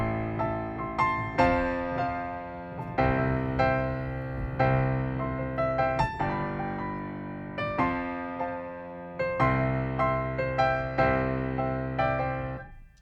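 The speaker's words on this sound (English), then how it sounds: "So the Concert Grand sounds like this" Logic Pro's sampled Concert Grand piano playing a slow sequence of struck chords, each ringing out and decaying before the next, full and resonant with no voices.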